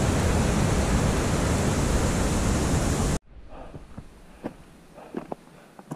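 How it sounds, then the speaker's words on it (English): Loud, dense roar of water raging down beneath boulders along a mountain trail in the Sabrina Basin near Bishop, California, which cuts off abruptly to quieter outdoor ambience with scattered footsteps and small knocks. "This water is raging down under these boulders."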